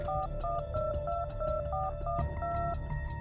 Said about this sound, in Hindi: उसने अपने दूसरे फोन में डायल किया